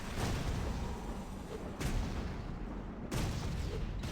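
A turret fires in Torchlight II, giving dense rumbling gunfire with three sharp blasts spaced about every second and a half, loud and close, with no talk.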